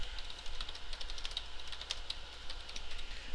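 Computer keyboard typing while a website domain name is entered, quiet and steady with rapid light key clicks over a soft background hiss.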